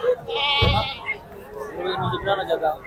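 At a livestock market before Bakrid, young male goats give a loud, close bleat, then softer bleats follow while people talk nearby.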